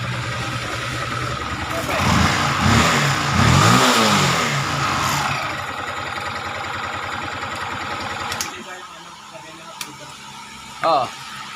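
A Sniper 155 VVA motorcycle engine revs up and down with a rough, rattling clutch damper, loud and close, over a low idle, while a person talks over the engine.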